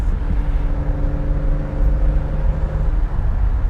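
Engine of a 1972 Ferrari 365 GTC/4 pulling on a road drive at part throttle, a low steady rumble with a sustained tonal whine rising through a gear, heard from inside the car.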